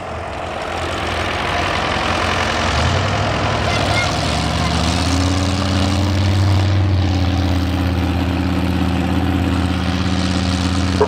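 A pulling tractor's engine runs at a tractor pulling competition, a loud, steady mechanical roar that climbs in pitch partway through and holds, with faint crowd or announcer noise beneath.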